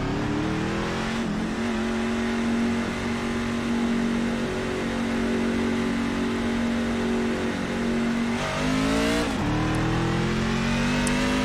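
NASCAR race truck engine in iRacing at Chicagoland Speedway, droning loudly at high revs with a steady tone, dipping briefly around gear shifts before pulling hard again.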